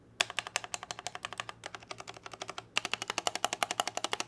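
Typing on an Akko ACR custom DIY mechanical keyboard produces a close, quiet stream of rapid clacky keystrokes that pauses briefly before turning into a faster, denser burst of typing, with no one speaking.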